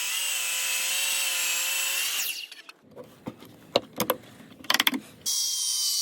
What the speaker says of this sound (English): the cordless circular saw and a multi-tool is the best way to do this notch